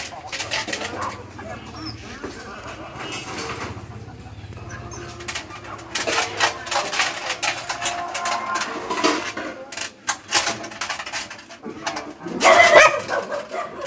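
Dogs barking in short bursts at a Vietnamese home with a large pack of puppies, mixed with bird cooing and a person talking nearby.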